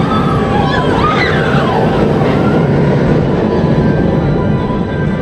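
A theme park monorail runs past with a loud, continuous rumble and rattling wheel noise close by, some squealing tones rising and falling over it, while people talk faintly in the background.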